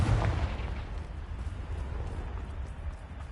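A fiery Confringo spell blast goes off in Hogwarts Legacy, one booming burst at the start that fades into a rumbling, crackling tail lasting a few seconds.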